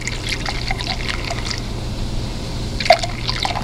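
Beer poured from a 12-ounce bottle into a pot of meat and potatoes: a close, uneven trickle and splash with a brief clink partway through.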